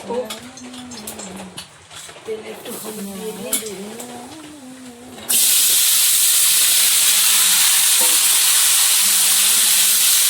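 Bitter gourd and potato frying in a pan at a home kitchen; someone talks for the first half, then a loud, steady broadband sizzle and hiss takes over and continues unbroken to the end.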